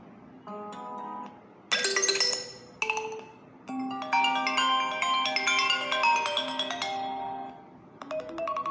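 Several bright electronic iPhone alarm melodies play one after another, each a short chiming tune cut off before the next begins, with no talking.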